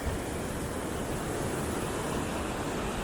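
A powerful mountain river flows beneath a footbridge in a national park canyon on a long-distance hiking trail, a loud, steady, broadband roar of rushing water that continues unbroken.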